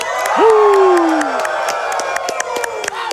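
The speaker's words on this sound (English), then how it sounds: "Can we hear the crowd's biggest woo to keep up that fantastic energy for the start of the block?" At a live speedrunning marathon event, a big crowd lets out a loud collective whoop that slides down in pitch, then keeps cheering and clapping under lingering shouts.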